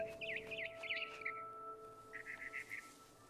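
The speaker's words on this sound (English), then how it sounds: "Then I heard chirping outside my window. It was a barn swallow going back to her nest." A barn swallow in the game What Remains of Edith Finch chirps in two quick warbling runs of twittering notes, fairly faint over a quiet steady ambient tone.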